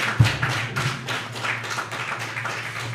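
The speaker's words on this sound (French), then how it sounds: "Nous les applaudissons." Audience applause at a public ceremony honouring young people in Haiti: steady, even clapping from a crowd, opening with a single thump, over a low constant hum.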